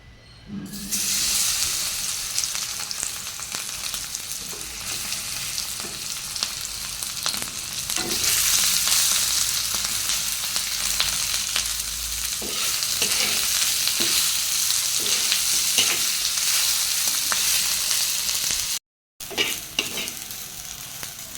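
Hot oil fries in a pan in a home kitchen, a dense, loud, continuous sizzle that swells midway, broken by occasional utensil taps and a brief dropout near the end, no voices.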